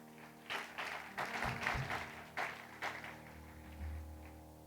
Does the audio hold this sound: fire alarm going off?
no